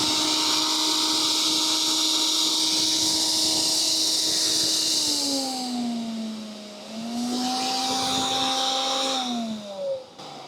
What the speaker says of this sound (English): if you run it on high maximum for this blender